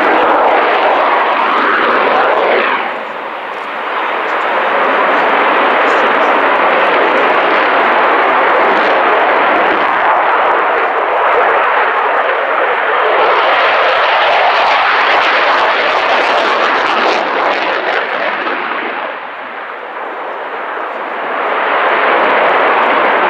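A Swiss F/A-18 Hornet fighter jet in low-level flight below 1,000 feet at an airshow, a loud sustained roar that swells and holds as it passes, with no other sounds.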